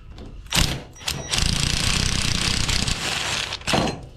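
A small impact gun rattles loose the steering rack bolts on a Polaris RZR 200, with short bursts followed by a long, loud, continuous rattling run and another brief burst at the end.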